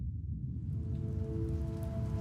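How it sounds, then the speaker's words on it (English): Steady rain falling, a dense even hiss that continues without a break through the whole short stretch. It sits at a moderate distance with a faint low hum underneath, and no voices are present. "It started to rain."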